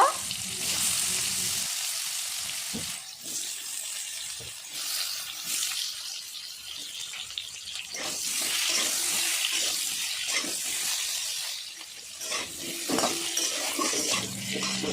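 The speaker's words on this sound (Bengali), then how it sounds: "ওই তেলে আমি আলুগুলো হালকা ভেজে নেব" Potatoes lightly frying in oil in a pan, after pointed gourd, a steady close sizzle and crackle lasting throughout with no speech.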